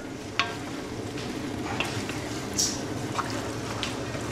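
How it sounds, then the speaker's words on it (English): Freshly diced tomatoes are stirred in a hot pan, giving a steady low sizzle with a few sharp utensil clicks and scrapes scattered through, close up and without speech. "couple of freshly diced, fresh tomatoes that have been diced up. Give that a stir."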